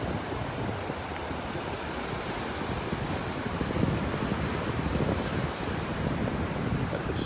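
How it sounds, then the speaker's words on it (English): Gulf waves breaking on a beach in North Naples, Florida, on a morning walk, a steady close wash of surf mixed with heavy wind rumble on the microphone, continuous and fairly loud. "Loving the sounds of these waves."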